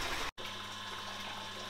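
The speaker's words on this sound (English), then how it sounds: "all the water has been transferred, I will stop the pump" A pump moves water through a home brewing system fitted with a heat exchanger, producing a steady, low droning hum with a faint watery rush and one very brief break near the start.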